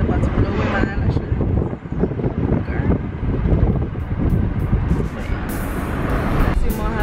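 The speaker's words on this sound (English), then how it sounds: "The wind is about to blow away my eyelashes." Strong wind buffets the microphone outdoors on a road trip between San José and Limón in Costa Rica, a continuous loud roar with gusty swells and traffic rumble beneath, while a voice talks over it.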